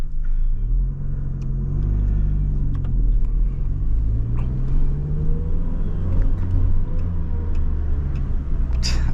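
A 1989 Ford Probe Turbo GT with a 5-speed manual heard from inside while driving, its engine droning and rising through revs with steady road rumble and a couple of gear-change dips, no speech.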